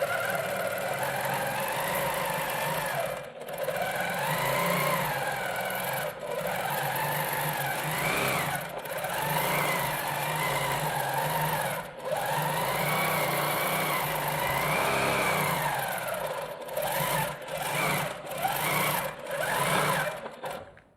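A sewing machine stitching test thread runs steadily and close, its motor humming in long continuous bursts broken by a few brief pauses, ending in a series of short stop-start runs.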